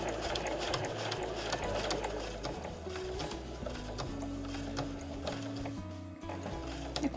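A sewing machine stitches Marimekko cotton fabric for a drawstring tote bag, a close, continuous mechanical whir with rapid needle ticking that holds steady for several seconds.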